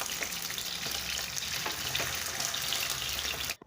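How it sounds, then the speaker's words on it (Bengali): Chicken pieces fry in a pan of oil over a medium flame, a steady broadband sizzle that runs evenly and close for several seconds before cutting off sharply at the end. "একে একে করে আমি চিকেনগুলোকে দিয়ে ভালো করে ভাজা করে নেব"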